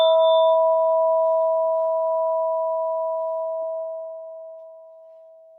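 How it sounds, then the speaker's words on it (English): A single mindfulness bell struck once at the start of a guided meditation, its clear ringing tone sustaining and slowly fading over several seconds with no voices. "listening to the sound of the bell"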